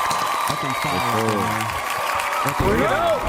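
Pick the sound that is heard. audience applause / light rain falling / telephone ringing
audience applause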